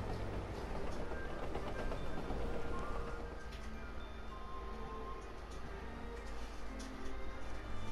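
A train rolling along in the video game Gravity Rush, a steady, continuous rumble with faint clatter that holds at an even level throughout, with no talking.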